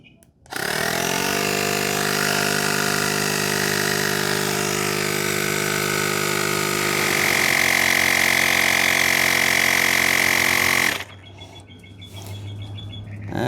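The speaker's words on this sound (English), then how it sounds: "Takes only like 30 seconds to inflate my bike tires." An AUXITO A301 portable air compressor runs steadily, inflating a nearly flat bike tire: a loud, continuous motorized drone and hum with a whining tone that rises slightly as pressure builds, then abruptly cuts to quieter background with faint birdsong.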